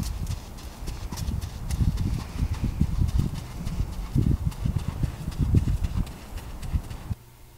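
A horse walking slowly with a new rider, hooves clip-clopping in a steady, close rhythm throughout, ending abruptly in near silence.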